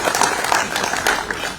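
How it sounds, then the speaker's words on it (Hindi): Audience applause at a book launch event in Jaipur, a dense steady wash of clapping lasting the whole short stretch, moderately loud with no voices standing out. "जोरदार तालियों से"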